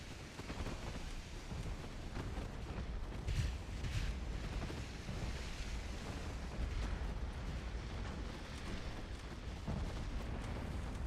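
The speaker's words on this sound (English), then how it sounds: "Ammo detonation" Ammo detonation of a warship in Ultimate Admiral Dreadnoughts naval battle, a faint continuous rumble of explosions and artillery thuds with scattered bursts, distant and low in level.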